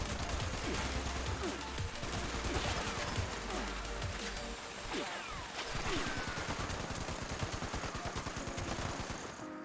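A .50 cal weapon fires rapid sustained bursts in Fallout 76, dense loud cracking volleys with impacts and crashes running almost continuously, close and dominant.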